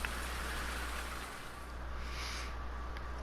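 Steady rain falling in Farming Simulator 19, a dense even hiss of drops that holds throughout at a moderate, close level with no voices.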